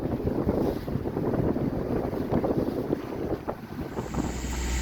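Strong wind roars across the microphone aboard a sailboat crossing from Ushuaia to Puerto Williams in Patagonia, a loud continuous buffeting rush mixed with water and hull noise.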